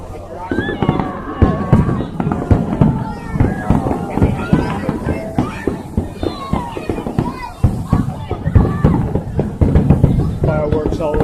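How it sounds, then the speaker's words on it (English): Fireworks set off on the ground outdoors, a dense run of crackling pops and bangs through the whole stretch, loud and close, with people talking over them. "Fireworks all over the ground."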